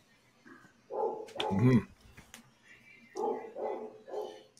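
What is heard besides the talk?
dog barking across the street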